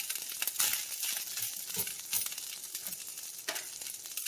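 Chicken being stirred into pineapple fried rice in a hot pan, a steady sizzle and frying crackle with scraping stir strokes, close and fairly loud throughout, no talking.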